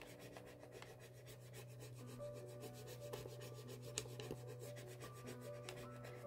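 Paper rubbed over an old photograph while making a family booklet: a faint, steady, scratchy rubbing that continues for about six seconds with no talking.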